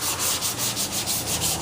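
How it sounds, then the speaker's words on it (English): Hand sanding of a flat wooden panel with sandpaper, steady back-and-forth rubbing strokes in an even rhythm, close and fairly loud with no voices. "I'm just going to use the sandpaper here, and then I'll touch it up with the 3M pad"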